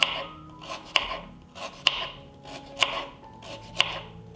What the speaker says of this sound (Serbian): iseckat ću na tanke kolutiće pola kilograma šargarepe